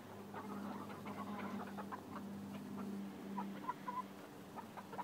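Soft clucking from a few chickens, quiet and somewhat distant, with scattered murmuring calls over a low background hum.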